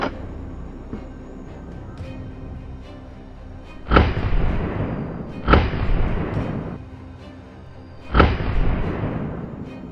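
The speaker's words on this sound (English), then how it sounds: "And then, as the gunshot rang out," Gunshots fired while hunting wild boar in a forest: three loud, sharp blasts spaced a couple of seconds apart, each followed by a rolling echo that decays slowly, with no talk.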